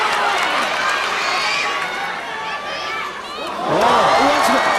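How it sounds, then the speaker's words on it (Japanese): A women's wrestling crowd cheers loudly during a match between two wrestlers. Shouts and high voices rise and fall, and the noise swells sharply near the end. "なんか雪っていう声援があるんですね。"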